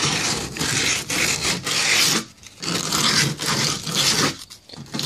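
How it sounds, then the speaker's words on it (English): Cheap 80 grit sandpaper rasps across a kayak in loud, close back-and-forth strokes, each gritty scrub lasting about a second with brief gaps between them. "I'm using 80 grit sandpaper, just cheap stuff."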